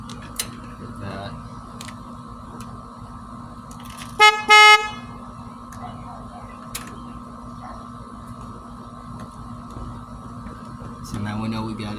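A louder aftermarket horn newly fitted to a Yamaha V Star motorcycle sounds in two brief, loud honks close by in a quiet garage, with faint clicks and mechanical handling before and after.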